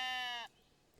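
A single bleating sheep in the cozy building game Tiny Glade, a clear, loud, steady harmonic bleat lasting about half a second, then quiet background.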